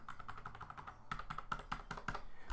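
Keys pressed on a Corsair K70 MK.2 RGB keyboard with Cherry MX Blue switches and membrane media keys, a quick run of close, crisp taps with clicky accents in the second half.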